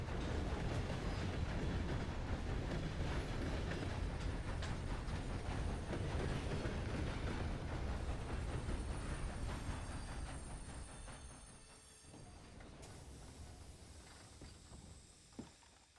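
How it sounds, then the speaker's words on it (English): A short train rolls past in the railroad video game Sundown RP, a loud, continuous rumble with rattling clickety-clack that fades over the last few seconds, leaving a quieter mechanical hiss. "Got the little short train today."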